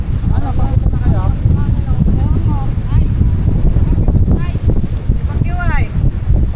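Strong, steady wind roars across the microphone outdoors in Pandan, Antique, with gusty low rumble throughout and people talking over it.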